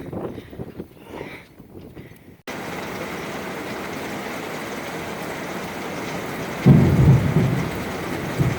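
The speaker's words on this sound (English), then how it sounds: "It's raining already on us." Rain falls steadily on a sailboat during a thunderstorm, a dense, constant hiss that begins abruptly after a quieter opening, with a deep rumble of thunder swelling near the end.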